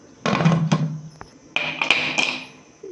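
A metal lid is set onto a cooking pot of simmering masala kaleji (liver curry) with water in a kitchen, giving a few sharp clanks and taps followed by rattling contact sounds, close and fairly loud.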